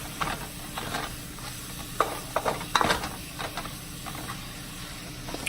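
Onions and partly frozen sausage meat frying in a pan for homemade spaghetti, a steady sizzle and hiss with scattered scraping stirs of a utensil, close and moderately loud with no talking.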